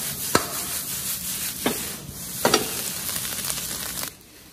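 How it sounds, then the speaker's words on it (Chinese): Nori fried rice with scallions stir-fried in a wok, giving a steady sizzle broken by several sharp scrapes and clacks of the spatula tossing the rice, with a final toss before the sound cuts off. "出锅前我们再撒入葱花， 再翻炒五六七八下即可出锅"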